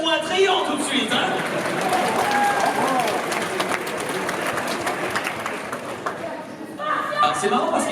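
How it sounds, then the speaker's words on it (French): Convention audience at a live talk applauding, a dense wash of clapping from a large crowd that runs through the whole stretch, with chatter and talk mixed in over it. "C'est marrant parce qu'ils applaudissent tout le temps."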